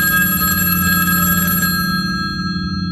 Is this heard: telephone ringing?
yes